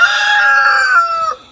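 On a homestead, a chicken gives one loud, close, drawn-out call that holds steady and then trails off, heard alone with no talking.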